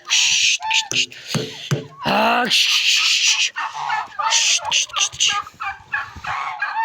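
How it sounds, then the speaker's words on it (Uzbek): A turkey guarding chicks in a farmyard gobbles loudly and repeatedly in close, rapid bursts, with shorter calls and bird chatter between them. "Mana bu jo'jalarni qo'riqlayotgan bu bikchamiz"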